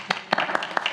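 A Bible study group gives a short round of applause for a child: four quick, sharp hand claps in under a second, close and fairly loud, with faint room murmur behind them.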